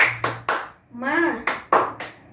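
A teacher in a classroom demonstrates a rhythmic 'tepuk semangat' clap, sharp single hand claps in a quick pattern, close and loud, broken by a short spoken or chanted word in the middle.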